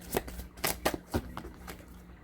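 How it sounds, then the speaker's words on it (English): Tarot cards pulled from a deck and shuffled, several soft papery riffles and slaps in quick succession, close and quiet with no talking. "Let's pull some cards for you."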